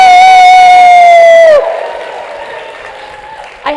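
A live audience in Detroit lets out a loud group whoop and cheer, starting with a long held shout that drops off sharply, then lingering crowd noise and a brief burst of applause and voices at the end.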